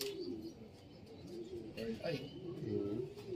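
A pair of pigeons coo close by in soft, repeated throaty rolls, overlapping and continuous, while someone talks quietly in the background.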